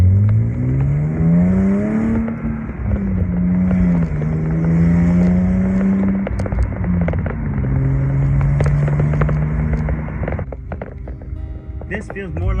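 A BMW E36's engine hums from inside the car, rising and falling in pitch as it accelerates and shifts, then fades near the end.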